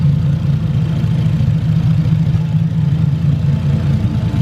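A Toyota 1JZ engine swapped into a Ford Foxbody idles steadily and rich with no O2 sensor, a loud, constant low rumble with a faint lope running without pause and no talk.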